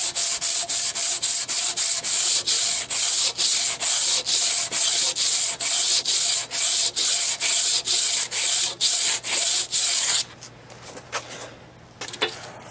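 Rhythmic sanding and polishing over grinder marks on a metal trailer hitch for a Harley Sportster, about twenty loud, close strokes in a steady back-and-forth pattern that stop near the end, leaving faint clatter.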